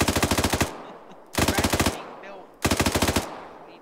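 Three loud bursts of rapid automatic gunfire in a multiplayer military shooter game, each lasting under a second with short pauses between, close and alone with no talk.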